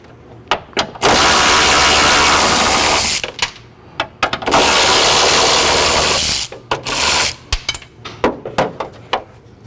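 On a 1998 Subaru Impreza, a 12 mm ratchet wrench clicks in rapid bursts while the hood bolts come off, with short sharp pawl clicks between longer buzzing runs of ratcheting, loud and close, with no talking.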